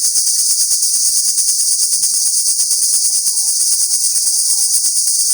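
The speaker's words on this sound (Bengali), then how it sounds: "খুব সুন্দর দেখছেন ঝিঝি পোকার আওয়াজ" A dense, steady chorus of crickets chirping nonstop among bamboo in a quiet village, loud and close, with no voices or other sounds.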